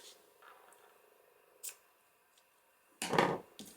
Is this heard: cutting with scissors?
yes